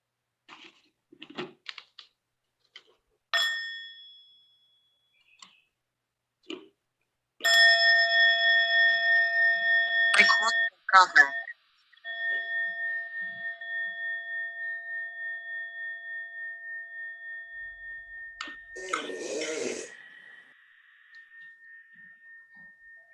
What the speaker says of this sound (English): I will invite one sound of the bell to close